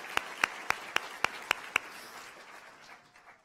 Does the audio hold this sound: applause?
yes